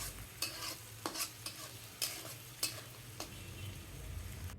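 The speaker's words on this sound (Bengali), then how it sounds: "আমি বাটা পেঁয়াজ দিয়ে রান্না করছি। সাথে কাঁচামরিচ দিয়ে একটু ভালো করে ভেজে নিব।" Onion paste, garlic paste and green chillies frying in a pan for a katla fish curry, with a soft continuous sizzle and repeated scraping stirs of a spatula at irregular intervals.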